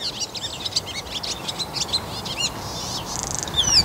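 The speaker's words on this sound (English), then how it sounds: "there's the swallow singing that came here the other day" Swallow singing on a spring morning on a farm with cows outside, a rapid run of bright chirps and twittering trills over a low outdoor background, moderately close, no speech.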